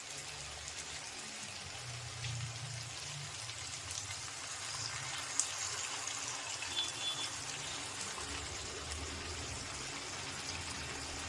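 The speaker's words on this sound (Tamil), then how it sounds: "புளி கரைச்சி வச்சுக்கிறேன். புளியை ஊற்றிக்கலாம்." Tamarind water poured into a pan of tamarind curry (puli kuzhambu) makes a steady, soft, hissing wash of liquid that runs evenly throughout, fairly faint and without talk.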